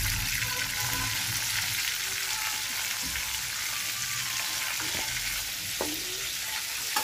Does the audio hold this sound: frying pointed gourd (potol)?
yes